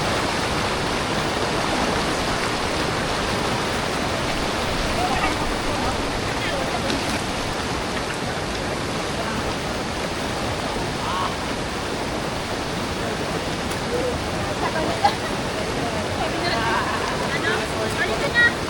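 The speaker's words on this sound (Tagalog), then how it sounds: "May maliit na falls" A small waterfall on the Bagsit River in Palauig, Zambales, gives off a steady, even rush of falling water that fills the scene, with people talking faintly through it.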